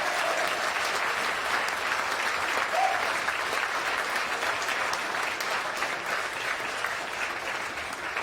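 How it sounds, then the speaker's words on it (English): A crowd at a Juneteenth celebration event applauds an assemblymember, dense, even clapping from many hands that holds steady from start to finish. "Assemblymember Inez Dickens. Let's give her a round of applause."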